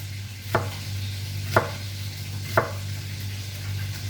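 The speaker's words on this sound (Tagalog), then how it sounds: "Guys, maghiwa na ako ng sibuyas." A knife chops white onion on a board in three evenly spaced, crisp strikes about a second apart, near and clear over a low hum.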